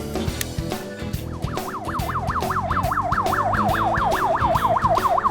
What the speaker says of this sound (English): To turn on the flashing lights and sirens